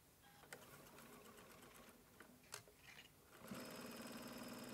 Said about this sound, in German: Steppe den Hosensaum anschließend mit einem Geradstich rundherum fest.